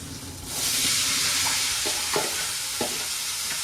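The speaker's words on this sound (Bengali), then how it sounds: "আর এখানে কালো জিরে শুকনো লঙ্কা ফোড়ন দিয়ে আলু ভাজা করব" Potatoes hit a hot pan tempered with black cumin and dried chilli. A loud frying sizzle swells in after a short quiet start and holds steady, broken by a few sharp clanks of a stirring spoon.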